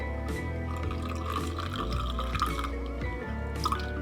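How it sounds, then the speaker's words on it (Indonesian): Water poured into a glass holding two spoons of rice flour, giving a steady trickling and dripping fill with a changing pitch as the glass fills, close and alone for about four seconds. "Kemudian, masukkan air ke dalam gelas."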